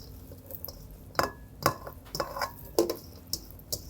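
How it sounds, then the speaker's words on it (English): Knife slicing corn kernels off the cob into a large bowl, a series of sharp clinks and scraping cuts against the bowl at irregular intervals, close and moderately loud, with no talking. "I can work the corn right into the bowl and I can cut it right off the cob"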